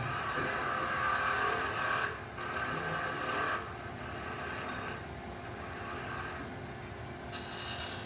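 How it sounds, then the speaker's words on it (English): A wood lathe turns a wooden box piece, with a continuous close rasping and scraping of the tool against spinning wood, steady and moderately loud throughout with slight dips in level. "Turn the lathe speed down."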